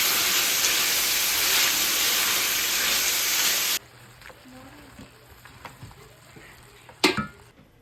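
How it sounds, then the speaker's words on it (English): Frozen broccoli and pork stir-frying in a pan, a loud steady hiss and sizzle for nearly four seconds that stops suddenly, followed by quiet room sounds and a brief clatter. "I'm gonna stir fry some frozen broccoli, possibly a couple other veggies, and the pork"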